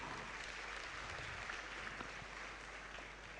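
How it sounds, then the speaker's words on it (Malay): Sustained applause from a seminar audience at a motivational event in Kelantan, a dense, steady wash of clapping that holds at an even level throughout, fading only slightly at the end. "Tepuk tangan yang paling gemuruh untuk diri anda."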